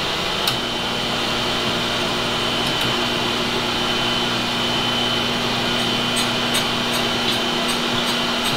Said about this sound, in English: All we're going to be grinding is right there on the tip.